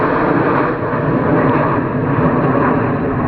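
A Red Arrows Hawk jet at RAF Waddington Airshow 2013, heard as a loud, continuous roaring engine rumble pulling up at high speed, steady and broadband with no talk over it.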